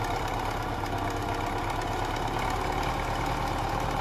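A 510 tractor's diesel engine idles steadily at close range, a constant rough rumble with a rhythmic knocking throb and no voices.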